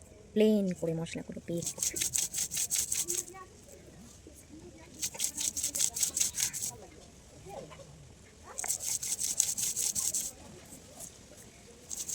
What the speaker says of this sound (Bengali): এখন বেটে নেবো ভালো করে